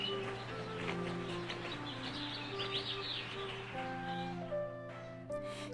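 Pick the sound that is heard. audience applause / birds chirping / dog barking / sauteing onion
birds chirping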